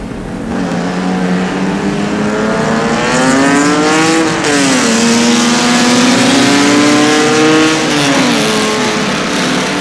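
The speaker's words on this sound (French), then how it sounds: "Voilà la dernière voiture qui amorce le dernier tour." Race car engine on the last lap of track practice, a loud sustained drone whose pitch climbs and drops as the car accelerates and shifts, continuous and close with no talk.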